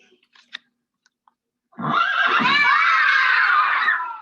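A horse neighs in a Letters Alive children's letter lesson, a loud, shaky whinny that starts after a quiet stretch and carries on to the end.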